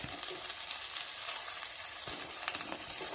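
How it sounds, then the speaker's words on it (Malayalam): Garlic and onion sauté for chicken cutlet, a close, steady frying crackle with light stirring scrapes, with no one talking over it. "ഇനി അതിനുശേഷം നമ്മള് ഉള്ളി ഇടുക."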